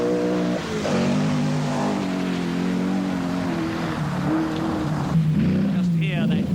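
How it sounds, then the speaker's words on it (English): A loud, throaty Rover rally car engine roar holds steady throughout, its pitch shifting slightly as it revs, with a voice talking faintly underneath. "Just hear that distinctive, throaty roar of the Rover engine as Sullivan, enjoying the drier conditions."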